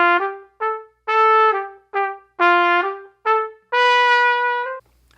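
Scale-based etude line played on a melodic instrument with waltz phrasing, each accented first note followed by two short staccato notes, a clear bright sequence of detached tones with no talking.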